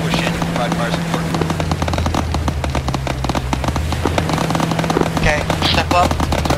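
Sustained automatic gunfire in the tactical shooter 1Tac, dense rapid bursts with sharp impacts and distant pops, loud and continuous throughout while voices talk over it on radio.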